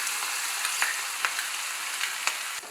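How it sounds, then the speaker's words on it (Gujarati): Ginger, chili and garlic paste sautés in hot oil with asafoetida for a tomato-garlic chutney, giving a steady close sizzle broken by a few soft stirring clicks. "હવે આ પેસ્ટને આપણે એકાદ મિનિટ માટે સાતરી લઈશું"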